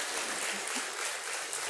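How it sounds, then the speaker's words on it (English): Steady crowd applause, dense and continuous, filling the whole moment without voices over it. "can we have a big, big round of applause once again?"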